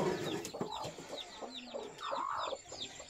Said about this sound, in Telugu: ఇదిగోండి పెట్ట బ్లాక్ కలర్ది ఎన్ని పిల్లలు చేసిందో చూస్తాము